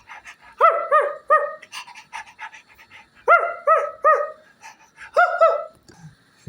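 A bulldog pants in quick rhythmic bursts of short, breathy huffs, close by, with brief pauses between clusters.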